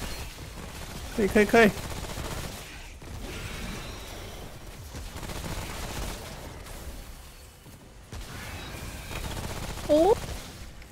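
Gunfire from the shooter game Ring of Elysium comes in scattered bursts of sharp shots under a player's excited talking and exclamations.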